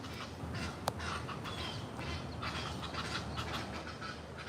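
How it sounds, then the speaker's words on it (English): Ducks quack faintly and intermittently at a park pond, soft scattered calls over a steady outdoor background hiss, with one sharp click early on. "All these unusual ducks."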